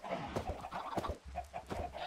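Chickens in the Minecraft video game, a run of short, close clucks in an uneven rhythm, clear and alone.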